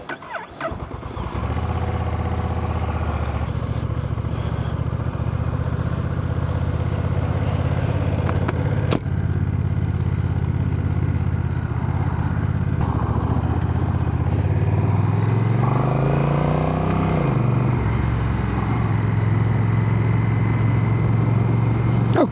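A 2025 Honda CMX1100 DCT cruiser motorcycle rides off, its engine droning steadily and loudly throughout, with a rising rev sweep near the end as it accelerates and shifts.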